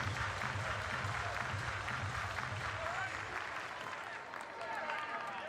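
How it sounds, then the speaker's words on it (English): Baseball crowd in a stadium clapping along in unison, rhythmic applause spread across the stands beneath music and a commentator's voice, dipping briefly before picking back up. "Everybody clap your hands."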